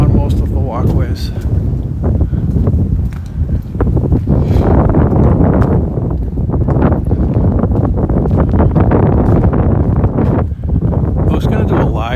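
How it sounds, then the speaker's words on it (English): Strong winter wind buffets the microphone on snowy Marlborough Street in Boston's Back Bay, with a constant low roar and rumble while a voice talks underneath it. "it's so windy that I don't know if you were going to be able to hear me"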